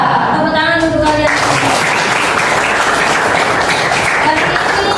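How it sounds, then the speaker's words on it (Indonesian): Students in a classroom burst into loud, dense clapping that starts after a brief spoken intro and continues steadily to the end, close and filling the room. "Tepuk tangan untuk kalian."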